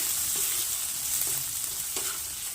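Mustard greens paste frying in a pan until dry, a steady close sizzle with soft scraping stir strokes every half second or so, no voices.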